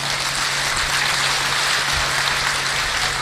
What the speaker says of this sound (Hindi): आपका भी भावना ऐसी हो तो एक बार तालियों से उन्हें बता दें आप बस।